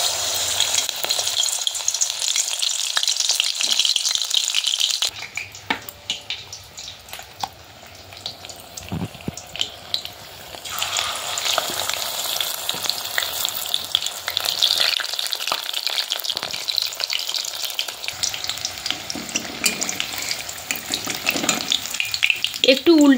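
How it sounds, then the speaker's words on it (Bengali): Pakoras of helencha greens fry in hot oil, giving a loud, continuous bubbling sizzle that dips and swells as the batter pieces are turned and stirred in the pan. "ভালো করে এপিট ওপিট করে ভেজে নিতে হবে।"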